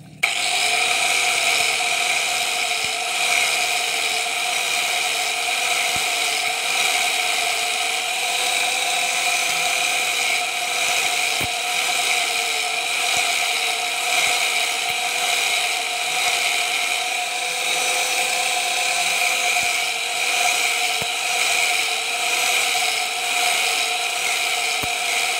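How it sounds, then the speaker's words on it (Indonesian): Steady grinder whine from an angle grinder smoothing the lower side surface of a 1-inch hydraulic ram pump waste valve, a continuous high-pitched whir that holds for the whole stretch with faint clicks and no talking. "itu dihaluskan pakai gerinda"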